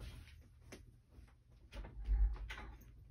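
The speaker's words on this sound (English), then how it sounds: "I'm going to open up the door so my cat can come in." A household door is opened quietly to let a cat in, giving a soft thump and a few light creaks and rattles, faint and close with a low background hum.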